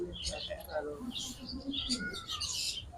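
Parrots in a park aviary at Natore Green Valley Park give quick, high chirps and tweets over a faint background murmur, with a person speaking nearby.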